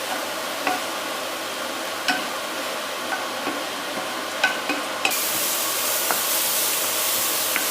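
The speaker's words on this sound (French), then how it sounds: "Jusqu'à ce que les crevettes elles soient un peu caramélisées avec le..." Shrimp fry and caramelize in a pan for an avocado and shrimp tartare. A steady hiss runs throughout with scattered sharp pops and clicks, and the sizzle grows louder and brighter in the second half, with no talk.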